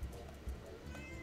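A cat in the video game Drink More Glurp meows briefly and faintly, a quick cry with no talking over it.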